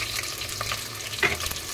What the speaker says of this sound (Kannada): ಈಗ ಸ್ವಲ್ಪ ಅದಕ್ಕೆ ಈರುಳ್ಳಿ ಹಾಕುವ.